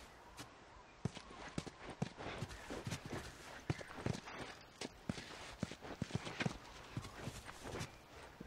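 Horse hooves clip-clop at a steady walking pace in the video game The Last of Us, distinct thuds repeating close by throughout, with faint game ambience behind them.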